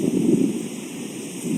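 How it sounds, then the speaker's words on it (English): Strong night wind buffets a microphone outdoors, a steady low roaring rush with gusts that swell and ease across the short stretch, with no voices heard. "It's crazy windy."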